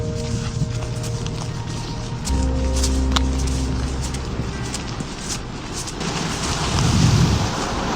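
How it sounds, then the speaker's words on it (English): A heavy rain downpour hisses steadily outdoors near a grass-roofed hut in Norway, loud and close, with dense patter swelling toward the end and a few louder drops or splashes. "we're in a full downpour again"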